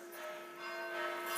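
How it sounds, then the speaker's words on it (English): Sustained ringing of bells, a faint shimmering tone that swells slightly, heard alone without talk. "You've started those bells again"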